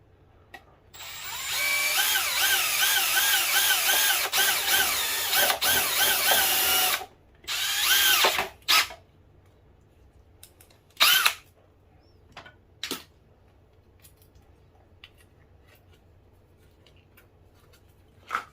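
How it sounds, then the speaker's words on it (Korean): A power drill bores a single hole in a plastic lid, whining in a loud sustained burst close by, followed by a few shorter bursts and brief clatters, with no speech. "그냥 단순히 구멍 하나만 뚫어줬고요"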